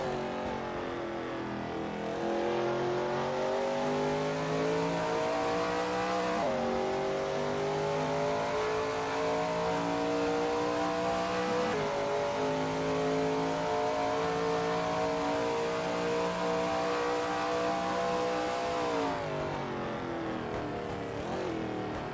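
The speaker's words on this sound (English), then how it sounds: "That ASRL Shelby Mustang GT350R looks good driving through Gendebien Bend." Shelby Mustang GT350R racing through corners at Sebring in a video game, its engine roaring steadily at high revs with pitch dips on downshifts and climbs through each gear, loud and continuous, no talk.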